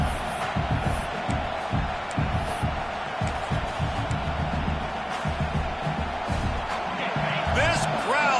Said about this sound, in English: This crowd busting the decibel meter and trying to will a 4th down stop